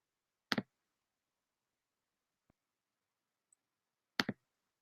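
A computer mouse clicks to close a task: two crisp, quiet clicks about four seconds apart in an otherwise silent room.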